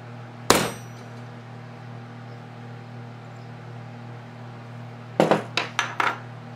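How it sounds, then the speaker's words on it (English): Metal stamp hammered to mark 925 into a silver and opal inlay ring: one sharp ringing strike, then, after a pause, a quick run of five lighter taps, all over a steady low electrical hum. "I'm going to actually mark this with a 925 stamp"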